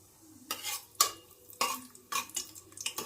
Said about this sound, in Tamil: முந்திரி ஆட் பண்ணிவிட்டு கொஞ்சம் நல்லா செவந்து வர வரைக்கும் வெயிட் பண்ணலாம்